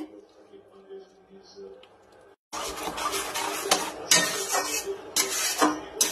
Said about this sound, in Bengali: নাড়তেই থাকবো আমি